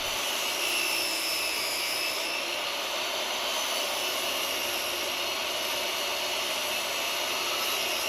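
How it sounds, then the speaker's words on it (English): Electric sander working a cedar fence plank, a steady loud whirring drone that holds unbroken throughout with no voices. "I'm going to run it through my sander, sand it down a little bit"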